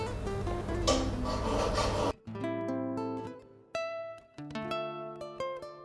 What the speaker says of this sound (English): filing up his lever